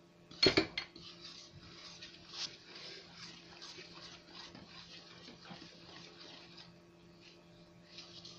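Utensil scraping and clinking around a bowl while cake batter is stirred and folded with flour, a sharp clatter near the start followed by steady soft mixing sounds, with faint background hum.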